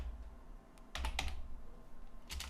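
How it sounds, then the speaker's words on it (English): HTML code is typed on a computer keyboard in a few short clusters of quiet clicking keystrokes over a low hum, with pauses between the bursts. "let's type it in"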